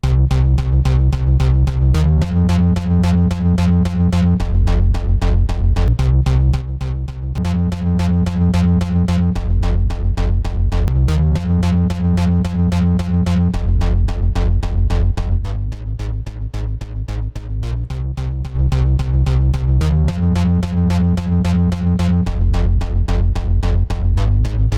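Bass line run through a VCA-style compressor plugin in a mix rack, a dense, steady, loud and punchy low-end groove with even level and repeating note patterns throughout, no voices.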